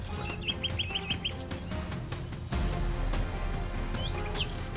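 A small bird chirps repeatedly among tangled mangrove roots, quick bright tweets in short bursts over a low, steady background murmur, fairly close and clear.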